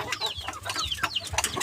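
A Texas gamefowl rooster clucks close by in a quick run of short, rising and falling calls, alone and fairly loud.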